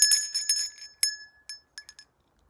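Tiny silver bells jingle on a horse's mane in bright, clear clusters of rings. The bells give a few quick shakes and then thin out into scattered single tinkles that fade away. No voices are heard.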